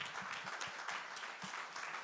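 Audience applauding at the Trophées Innovacteurs 2023 award ceremony, a steady wash of clapping at moderate distance with no voices over it.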